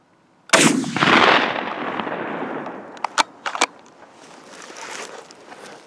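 A single loud rifle shot from a deer hunt cracks out nearby and rolls away in a long fading echo, followed by a few small sharp clicks and rustles.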